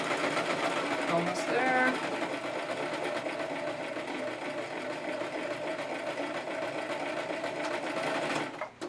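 A sewing machine stitches fabric in a steady, continuous mechanical whir that runs nearly the whole time and cuts off at the end, with a brief spoken remark early on.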